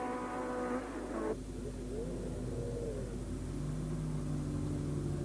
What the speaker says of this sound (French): Profitant d'une accalmie, Scarfiotti sort au volant de son Eagle.